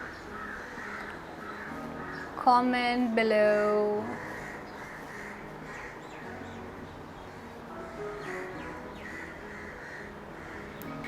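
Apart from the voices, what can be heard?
crow cawing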